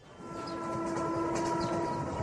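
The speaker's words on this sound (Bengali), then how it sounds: "ট্রেন যায় একেবারে ওদের বাংলোর সামনে দিয়ে" A train runs right past a bungalow in a radio drama, a steady rolling rail rumble that swells in loudness over two seconds, with a sustained tonal hum running through it and no voices.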